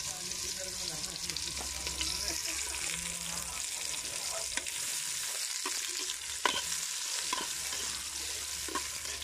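Garlic and onion frying in a pan for goose with coconut milk, a soft continuous sizzle with scattered clicks and stirring scrapes, fairly quiet and close, with no talk over it.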